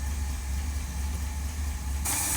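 An engine with a rebuilt carburetor idles smoothly in a steady, close low rumble, with a burst of brighter hiss near the end and no voices.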